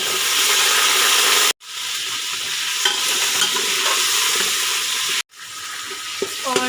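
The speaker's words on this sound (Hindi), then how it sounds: "अब प्याज हमारे गोल्डन ब्राउन हो चुके हैं। अब हम इसमें गोश्त डालेंगे।" Pieces of meat dropped into a pan of golden-brown frying onions for a kaddu gosht curry, giving a loud, steady sizzle and hiss with brief pauses and some stirring scrapes, close by.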